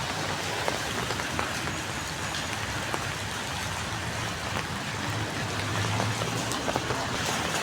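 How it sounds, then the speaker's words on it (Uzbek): Steady rain pours down outdoors in a continuous, even hiss with scattered drop patter, heavy and close, with no voices over it. "Yomg'irda qaranglar."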